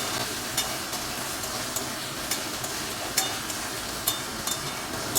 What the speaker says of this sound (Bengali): আলুটা সুন্দর করে একটু ভেজে নিতে হবে।